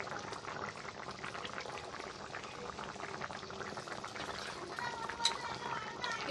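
A pot of tilapia fish and taro curry boils steadily, giving a continuous, dense bubbling and gurgling that stays at an even level throughout.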